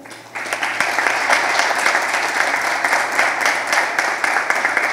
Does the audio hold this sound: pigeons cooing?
no